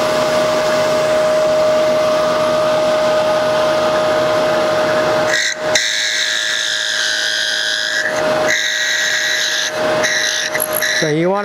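A wood lathe turns a wooden hummingbird birdhouse. A steady, close motor hum carries a whining tone, and uneven cutting bursts come in partway through. There is no talking.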